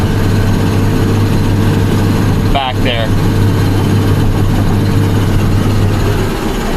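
A tractor engine runs steadily during deep field ripping of tight ground, a loud constant low drone with a steady hum throughout, while a person speaks briefly over it.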